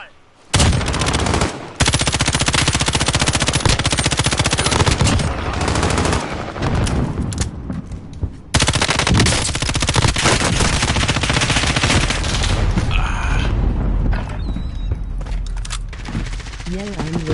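Rapid automatic gunfire and bursts of shots in the online shooter Call of Duty: Warzone on PS4, loud and nearly continuous with brief gaps, with players talking over the battle.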